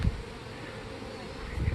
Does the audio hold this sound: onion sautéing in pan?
no